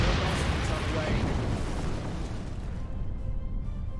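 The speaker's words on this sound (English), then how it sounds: "Use the big torpedo again." A torpedo fired at an enemy ship in Star Trek Online bursts out as a loud, dense, rumbling blast that fills the clip and slowly thins toward the end, with no talk over it.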